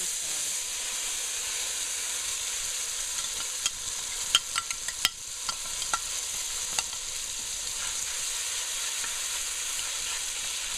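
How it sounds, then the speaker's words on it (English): Curry powder and masala frying in hot oil for an eddoe and shrimp curry, a steady close sizzle and hiss with a few sharp crackles and stirring clicks, no voices. "the oil nice and hot, so I'm gonna be throwing in the curry powder and the masala"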